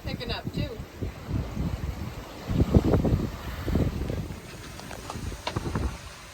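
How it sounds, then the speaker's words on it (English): Gusty wind buffeting a sailboat at sea off the California coast, rough rushing surges with heavy wind noise on the microphone, loud in places, with voices and water sounds mixed in. "Our wind's picking up too."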